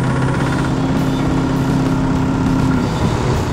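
A 1932 Stutz DV32 LeBaron sedan's engine runs steadily at close range, a continuous rough rumble with a low tonal drone, heard alone with no talk.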